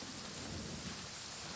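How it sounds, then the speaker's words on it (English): Steady rain pours across an open outdoor scene in Genshin Impact, a dense, even hiss with low rumbling undertones of thunder, continuous and fairly loud throughout with no voices. "Oh no, it's raining!"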